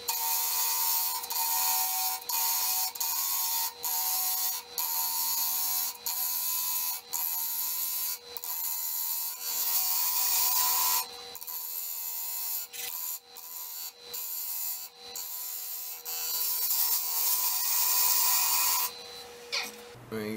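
A scraper cuts a rustic box elder burl bowl spinning on a wood lathe, giving a continuous rasping hum broken by regular rhythmic ticks as the irregular burl surface strikes the tool.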